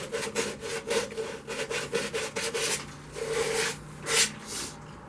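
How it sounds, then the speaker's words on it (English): Green poplar wood on a turned bowl is sanded by hand, with quick repeated rasping strokes in an uneven rhythm, close and fairly loud, followed by a few longer rubs. "The poplar isn't too bad to sand"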